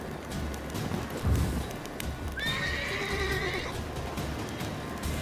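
A horse whinnies once in The Witcher 3: Wild Hunt, loud and clear with a rising then wavering cry, over a dull rumble and a brief thud before it.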